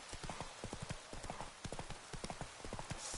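Hoofbeats of Roach, the horse in The Witcher 3, a brisk, regular clip-clop of a galloping mount, close and steady throughout at a low level.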